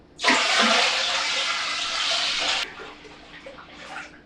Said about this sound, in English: now pour the must into here